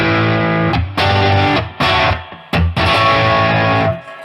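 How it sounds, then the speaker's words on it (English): Electric guitar played through a Boss Katana 50 amp on its overdrive setting, loud chords with gritty sustain and a touch of reverb, struck in several bursts separated by short gaps. "So overdrive."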